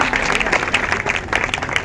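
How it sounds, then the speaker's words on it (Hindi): An audience at a women's safety and honour event at a collectorate bursts into dense, steady clapping, loud and close, with voices mixed in throughout the short burst. "तालियां तो बजा दीजिए सबकी मेहनत के लिए।"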